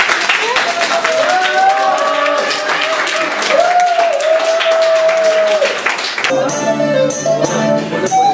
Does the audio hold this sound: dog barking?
no